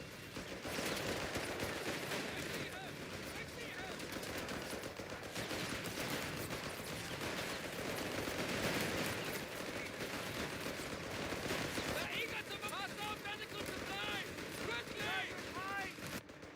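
Rapid bursts of gunfire and machine-gun fire rattle through a Company of Heroes 3 battle between Afrikakorps and enemy forces, dense and continuous, with shouted voices over the combat.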